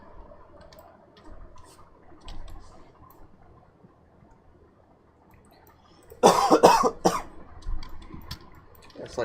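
A quiet stretch of faint background noise breaks into a short, close burst of two or three harsh coughs, followed by softer throat sounds.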